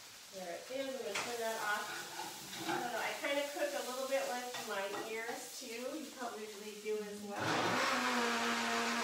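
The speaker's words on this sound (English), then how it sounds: "And I'm going to add this avocado. Here's my other blender." A kitchen blender whirs into a loud, steady roar near the end as it blends avocado, after a stretch of a person talking.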